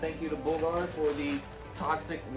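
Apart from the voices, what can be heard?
No distinct noise like a dog, phone or traffic.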